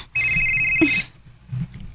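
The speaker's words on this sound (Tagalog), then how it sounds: "Ang cellphone ni Ryan na bilhin." A cellphone rings with a steady high electronic tone for about a second, then cuts off, followed by a low thump and faint background voices and movement.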